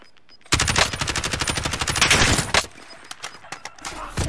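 Loud, rapid automatic gunfire in a battle royale video game, a sustained burst of close machine-gun shots lasting about two seconds, followed by a few scattered quieter shots.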